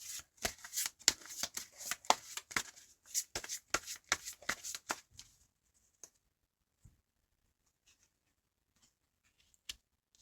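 Tarot cards are shuffled in a quick flurry of crisp riffling snaps for about five seconds, then a few isolated soft card clicks follow in near silence.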